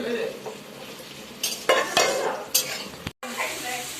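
Chili chicken stirred and fried in a pan, with steady sizzling under repeated scraping and clinking strokes of a utensil against the metal.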